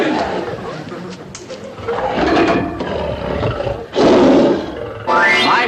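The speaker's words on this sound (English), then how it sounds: "You're a good lion." A lion roars loudly and close in several long, rough swells, the last one rising in pitch, mixed with voices and chatter from people nearby.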